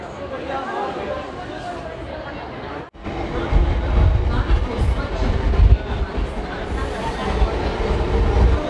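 Steady rumbling and rattling of a moving local train from Howrah, with people chattering in the background; a brief dropout near the start before the noise returns louder.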